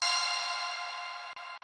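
A synth patch imitating a vintage church organ holds a bright, steady chord for under two seconds, fairly quiet and alone, with two brief dropouts near the end.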